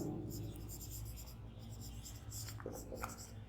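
Pen or chalk writing out a geometry formula in a trigonometry class, a soft continuous scratching rubbed along in short strokes, close and quiet, with no talking.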